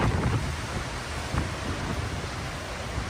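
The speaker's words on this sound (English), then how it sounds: "Look at the rain." Heavy rain and gusting wind during a storm in the UAE, a dense continuous roar of rainfall with buffeting wind noise on the microphone throughout.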